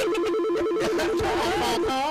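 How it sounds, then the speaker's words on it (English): Telephone ringing on a call-in radio show, a warbling electronic ring trilling steadily and fairly loud for about two seconds with a busy studio din behind it. "got a phone call."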